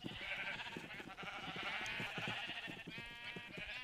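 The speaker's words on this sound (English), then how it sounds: "It cycles the sheep through automatically, I guess, so they're easier to shear somehow?" Sheep bleating in a Minecraft sheep farm on Hermitcraft, a dense, overlapping chorus of game bleats, continuous and fairly close, layered over a steady low rhythmic clatter.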